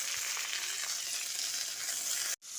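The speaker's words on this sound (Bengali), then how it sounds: "আলুটা দিয়ে বেশ খানিক্ষণ ভেজে নিতে হবে" Chopped potato frying in hot oil with lightly fried onion for a chorchori of note greens, a loud continuous sizzle that cuts off abruptly just before the end.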